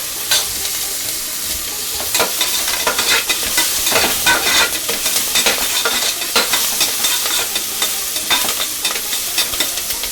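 Steady sizzling and crackling of onions and tomatoes frying in a hot pan, with occasional stirring scrapes throughout.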